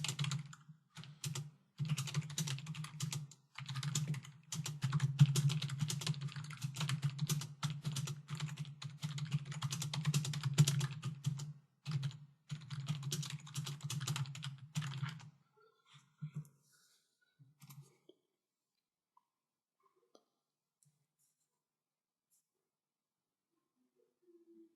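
Computer keyboard typing, a fast, dense clatter of close key presses running for about fifteen seconds with brief pauses, then a few scattered taps before silence.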